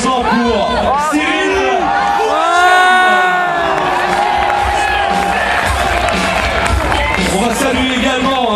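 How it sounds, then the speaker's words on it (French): Crowd at an outdoor cliff diving event in La Rochelle cheers and shouts loudly and without a break, with whoops and excited voices rising and falling throughout. "Vos encouragements, vos applaudissements pour Cyril."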